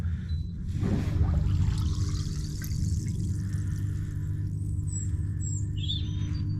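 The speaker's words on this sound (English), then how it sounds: "the unit, the pump, is now moving the water around" Lay-Z-Spa Helsinki Air Jet hot tub pump circulating water, a steady close hum and low rumble with continuous rushing, gurgling water and faint high trickles, constant in level throughout.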